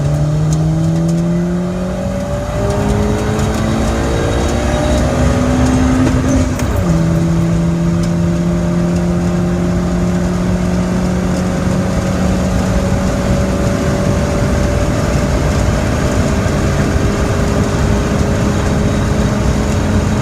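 A car accelerates hard through the gears, its engine note climbing steadily, dropping at a shift, then pulling long in the next gear with a loud, close drone throughout, no voices.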